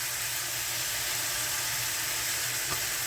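Breakfast sausage sizzles and crackles steadily in a hot pan, a dense, even frying hiss with no pauses and no voices over it.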